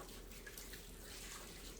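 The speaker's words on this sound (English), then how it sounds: "take some water, and if you have a sprayer, just run it across the top" Water sprayed across the top of microgreens, a soft, steady hiss of fine spray held at an even level without a break.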